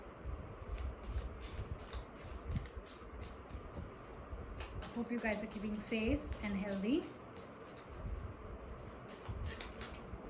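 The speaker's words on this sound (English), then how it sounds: "let's begin shuffling" Tarot cards are shuffled in repeated quick riffles and snaps while someone talks softly over them.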